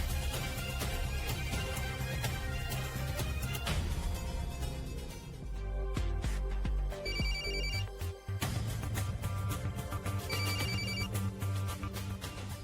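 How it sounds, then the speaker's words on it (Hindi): A mobile phone ringtone rings in a Hindi TV drama scene, a melodic electronic tune playing on and off for several seconds over background music. "ये तो मिस गर्ग का रिंगटोन है।"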